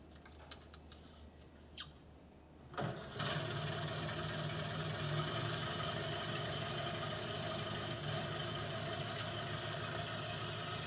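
Engine fitted with an accessory carburetor starting without choke on a cold 15-degree day: a few faint clicks, then it catches and settles into a loud, steady idle that runs on alone.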